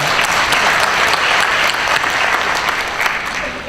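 Audience applause at a college opening-day gathering, a dense steady clapping from a large crowd that stays loud throughout and tapers slightly at the end.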